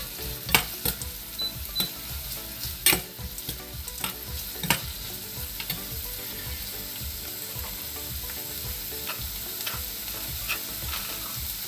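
Slit green chillies sautéing in a pan for moru curry, with a continuous sizzle and sharp spatula scrapes and clacks, louder in the first seconds, then a steady fry, no talk.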